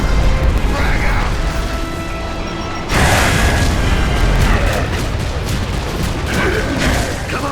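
A frag grenade goes off in the Gears of War 3 campaign, a sudden loud booming blast at about three seconds that cuts through steady gunfire, mechanical battle noise and shouted voices.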